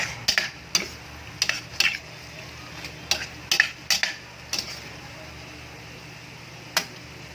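A spoon stirs chicken liver afritada in a pan, giving about a dozen sharp, irregular clicks and scrapes against the metal over a soft low simmer. The sound is close and fairly quiet, with gaps between strokes and a last lone tap near the end.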